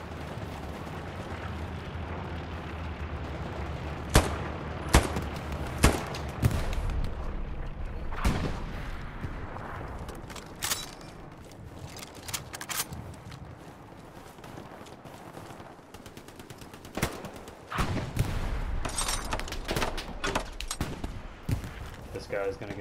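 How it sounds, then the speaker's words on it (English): Gunfire in the World War II shooter Hell Let Loose: several sharp, loud shots crack out at scattered moments over a dense battlefield din, with a player talking through much of it. "Watch where he's shooting."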